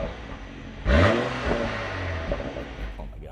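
Ineos Grenadier engine revving, heard from outside the vehicle: a sudden loud swelling roar that peaks and then settles into a lower rumbling idle.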